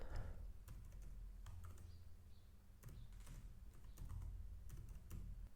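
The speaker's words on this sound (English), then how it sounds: "on the name I'm going to type the name of my contractor, and I also have to type the email" Someone types on a computer keyboard, entering a contractor's name and email in accounting software, with irregular bursts of quiet, close key clicks and short pauses between them.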